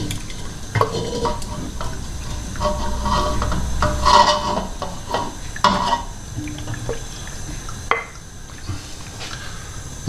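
Cooked pasta for a smoked pancetta and bacon pasta bake is stirred back into a bowl, with close, wet scraping and squelching strokes repeating irregularly alongside occasional sharper knocks of the utensil against the bowl.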